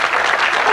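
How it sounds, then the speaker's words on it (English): A studio audience at a 1991 Cluedo game show claps in a brief, dense burst of applause, loud and close. "I don't know why you're clapping"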